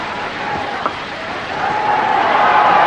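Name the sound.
crowd clapping at a cricket match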